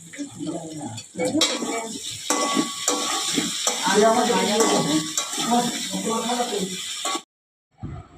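Food sizzles steadily in a pan while a utensil stirs and scrapes it, with occasional metallic clinks against the pan. Indistinct voices sit low in the background before the sound cuts off near the end.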